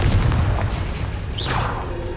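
A Confringo fire spell detonates in the Hogwarts Legacy video game, a dull booming burst over busy combat noise with a brief whooshing flare near the end.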